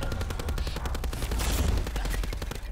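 Rapid automatic gunfire from the Hades weapon in Black Ops 4 zombies mode, a dense stream of close, loud shots in a steady fast rhythm that runs the whole time with no talk.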